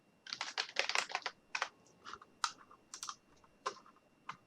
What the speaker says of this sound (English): they would click on text, click on the screen, and then they can type their sentence